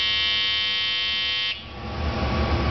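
A duckbill valve micro-pump runs while blowing air at about 2 kilopascals: a close, high electric buzz holds steady, then abruptly gives way to a rough, fluttering rush of airflow.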